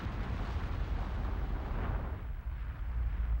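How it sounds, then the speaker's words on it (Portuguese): A volcanic eruption sounds as a continuous deep, rumbling roar with dense low-end power, steady and heavy throughout without distinct breaks, and no voices over it. "ou explodindo superfície da Terra em erupções vulcânicas"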